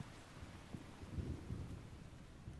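Steady rain hiss with low, rumbling thunder swelling in the middle in Metal Gear Solid 3: Snake Eater, quiet and distant-sounding, no voices.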